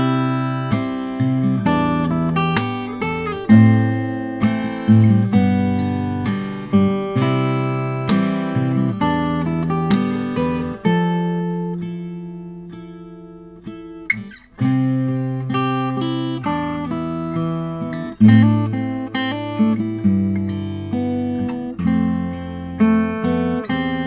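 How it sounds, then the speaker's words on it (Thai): Takamine TSF48C acoustic guitar played alone, strummed chords and picked notes ringing bright and clear up close, with a short pause midway before playing resumes. "TSF48C ตัวนี้เสียงจะเป็นยังไงนะครับลองฟังดูครับ"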